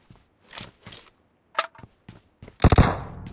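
Gunfire in the video game PUBG: scattered single shots and short bursts, ending in a loud, close volley of rapid fire.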